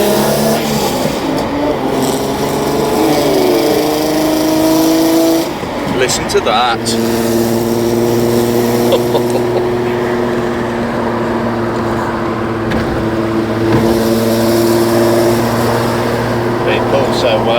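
A road-going Alfa Romeo GTV6 engine pulls hard uphill in fourth gear from about 2,500 rpm, its steady, loud drone rising under throttle as heard from inside the car, with someone talking over it.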